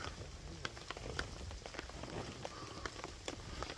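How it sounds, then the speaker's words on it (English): Steady rain falling outdoors at an off-grid building site in Eua, Tonga, a dense even patter of drops on surfaces with occasional louder nearby splats, continuous throughout with no talking. "It's raining"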